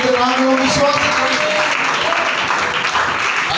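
Congregation clapping during a Sunday church service, loud sustained hand claps with voices and a tonal sound over them at the start.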